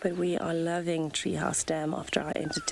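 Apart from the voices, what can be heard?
None of the usual background noises is heard.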